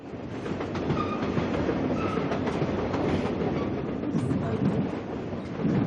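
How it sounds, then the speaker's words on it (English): A train rolls along its rails with a continuous loud rumble and faint rhythmic clicking that holds steady throughout. "Let's get back on the train"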